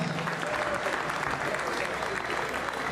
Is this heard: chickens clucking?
no